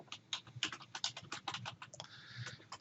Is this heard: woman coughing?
no